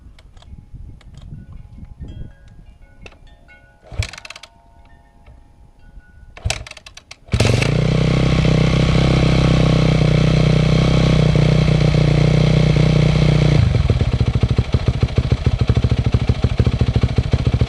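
A 2001 Yamaha YZ250F dirt bike engine cranks over after a few quiet clicks and knocks, then fires and settles into a loud, steady idle as it warms up, with the pitch changing slightly later on.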